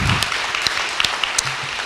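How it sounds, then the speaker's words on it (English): Applause from an audience at a student election question time event, loud and continuous for a brief moment, with a few sharper claps standing out. "Let's have a round of applause for all three prospective candidates, Marissa, Farah and Matt."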